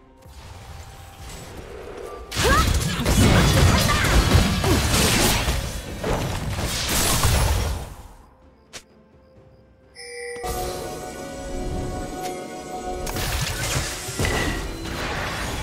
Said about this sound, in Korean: 파랑 팀의 포탑이 파괴되었습니다